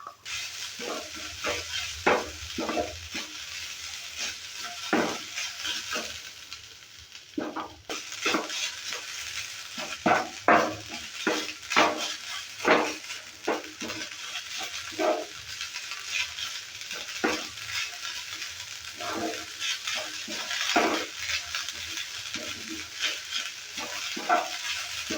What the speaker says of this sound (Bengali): এবার দিয়ে দিচ্ছি নারকেল গুঁড়ো। নারকেল গুঁড়োটাকেও ভেজে নেব।